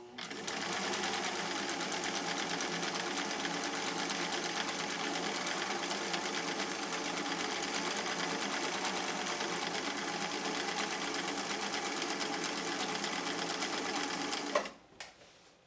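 A home-built, cobbled-together sewing machine stitches in one long, steady, fast run, loud and close, then stops abruptly near the end with a small clunk.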